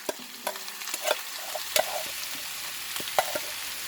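Rice frying in a pan for a big batch of Thai chicken fried rice, with a spatula scraping and clacking as it stirs, under a soft steady sizzle and heard up close.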